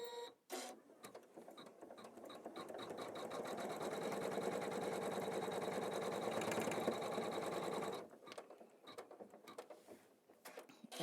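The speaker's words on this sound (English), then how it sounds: "now we are going to stitch our placement line for our side border" An embroidery machine stitches a placement line for a side border, a fast rhythmic mechanical chatter running steadily for several seconds before stopping, with a few softer clicks and handling noises around it.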